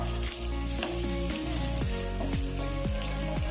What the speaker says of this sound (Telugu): ఇప్పుడు ఇదే ఆయిల్లో కట్ చేసుకుని ఉల్లిపాయ పచ్చిమిర్చి వేసుకోండి